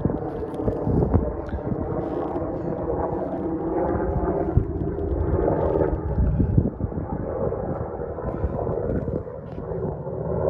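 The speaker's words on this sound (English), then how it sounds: "Excuse the helicopter." A steady, heavy rumbling drone of a helicopter flying overhead fills the whole stretch, low and continuous with no clear rhythm.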